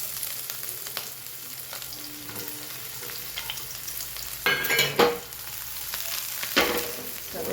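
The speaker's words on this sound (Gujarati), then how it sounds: "જીરું ને રાઈ થઈ જાય એટલે આપણે એમાં ડુંગળી એડ કરીશું" Onion and a finely chopped green chili go into hot oil with crackling cumin and mustard seeds. A steady low sizzle runs through, with louder bursts of frying and stirring noise near the end and no talk.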